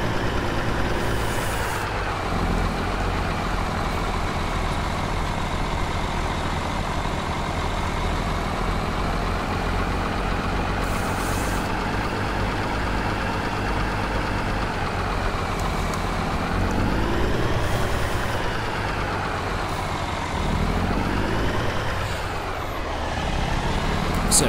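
A simulated American Truck Simulator truck engine idles and revs in a steady, continuous drone while the rig backs a trailer into a tight parking spot. The pitch rises and falls gently, with occasional faint hisses over the engine.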